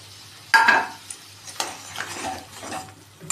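Spiced water with turmeric is poured into a hot kadai and stirred, bringing a sudden sharp sizzle followed by softer scraping and stirring sounds, fairly close with no talking.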